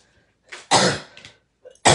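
Two harsh, close coughs, one long burst followed by a shorter one, with a brief quiet gap and a small throat sound between them.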